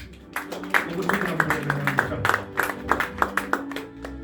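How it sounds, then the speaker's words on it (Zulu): Church congregation clapping in a steady, quick rhythm, the sharp claps landing roughly twice a second throughout, mixed with voices singing or calling out over them. "Shayela umoya ingcwele ihlombe"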